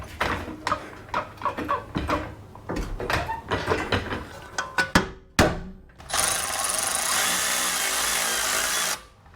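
A hammer drives the suspension knuckle onto the shock of a VW Tiguan, giving a run of sharp metallic blows at an uneven rhythm, close and loud. A few seconds of steady harsh noise follow, then cut off abruptly.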